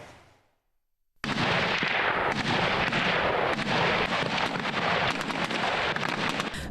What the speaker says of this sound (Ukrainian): Вибухівка спрацювала, техніку зупинили і знищують